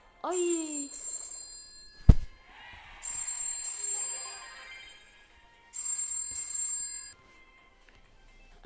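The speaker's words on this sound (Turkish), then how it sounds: "az önce telefon çaldı o yüzden" A telephone rings loudly and close with electronic ringtone bursts that repeat in several segments, separated by a sharp knock and short gaps, during a Brawl Stars gaming session.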